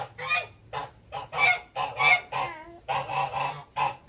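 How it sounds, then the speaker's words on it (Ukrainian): Domestic geese honk repeatedly in loud, close bursts, one call after another for the whole stretch, with no talk over them. "Не ганяй гусей."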